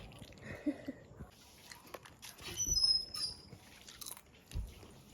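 Someone eating crunchy homemade banana chips while lying down, with a few scattered crisp bites and chewing crunches at close range, fairly quiet, against a faint room background.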